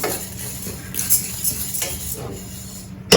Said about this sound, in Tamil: இப்போ இந்த படபடம் புரியுறது குறைஞ்சிருச்சு அங்கே ஒன்று இங்கே ஒன்றுமா புரியுது